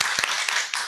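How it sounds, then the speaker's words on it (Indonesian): A small audience at a talk on PIRT licensing gives brief, scattered applause, a short burst of clapping with a few distinct sharper claps standing out, lasting about a second. "Tepuk tangan dulu dong."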